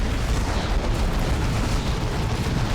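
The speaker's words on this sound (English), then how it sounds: "Another grenade on him." Grenade blast in the video game Warhammer 40K: Dawn of War II – Retribution, a dense, rumbling burst of explosive noise that holds loud and continuous for nearly three seconds.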